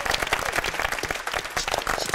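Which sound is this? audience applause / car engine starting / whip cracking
audience applause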